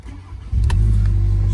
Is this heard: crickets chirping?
no